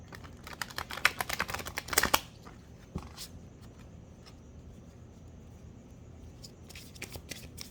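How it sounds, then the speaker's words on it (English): A deck of oversized tarot cards shuffled by hand: a few seconds of rapid riffling clicks and flutters, then quieter scattered taps and card slaps. "That was not a satisfying shuffle."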